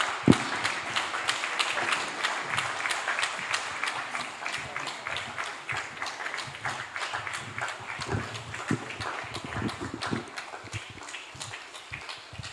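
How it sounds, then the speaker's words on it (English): An audience at a business luncheon applauds with a sustained round of clapping, dense and steady at first and gradually thinning toward the end, with a few louder claps standing out. "let's give Prof another round of applause"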